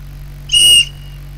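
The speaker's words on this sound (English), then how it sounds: "that whistle hits your soul" A single shrill whistle blast, loud and close, lasts about a third of a second at a stand-up paddleboard race, the Palkbay SUP Challenge, over a low steady hum with no talk.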